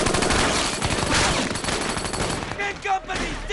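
Dense gunfire and rapid bursts from a war film set in the Pacific, loud and continuous for most of the span before thinning out near the end, with a shouted voice briefly heard.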